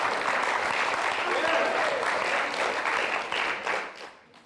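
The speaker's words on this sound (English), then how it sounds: "now that you've clapped" An audience at a talk on moral code and oneness applauds, a dense, steady wash of clapping that holds for several seconds before thinning and tapering off.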